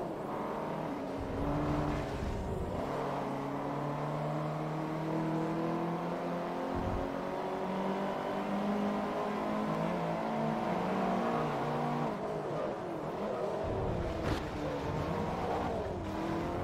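In Forza Motorsport 3, several racing cars, including small front-wheel-drive superminis, hold a continuous loud engine roar that rises and falls with gear changes, with brief tire squeal near the end.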